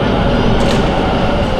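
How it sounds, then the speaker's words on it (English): A metro train pulls into a Taipei station platform with a dense, steady loud rumble and roar filling the platform, no pauses, a brief hiss rising midway. "that means the next train is approaching"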